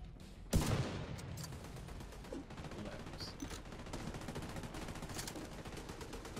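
Turret gunfire in The Division 2, a steady rapid stream of shots opening with a sharp loud burst, then continuing as a dense, fairly distant rattle underneath game ambience.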